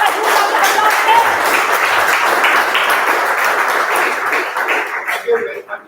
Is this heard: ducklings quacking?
no